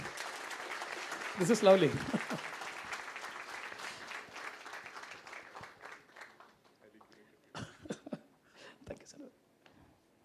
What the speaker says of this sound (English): Can we have a loud round of applause for Sujith, please?